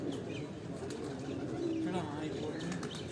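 A golden pigeon cooing in a loft, low soft coos with brief chirps and wing rustle, close by, with people talking nearby over it.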